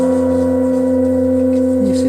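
An antique Alta Bati singing bowl with a cauldron shape rings in a loud, sustained hum of layered steady tones that hold evenly without fading, with no talk over it.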